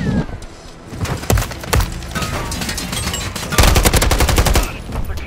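Bursts of automatic gunfire and single shots from the Call of Duty Modern Warfare III video game, loud and close, with a dense rattling volley near the end.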